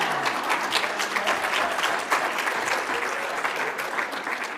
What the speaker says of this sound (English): Please give a round of applause for Dr. Joanne Pelaez Fisher.